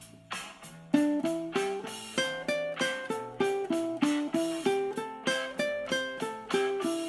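A ukulele solo over a blues backing track in A, plucking a quick run of single notes that climbs and falls in an even rhythm, bright and close with no talking.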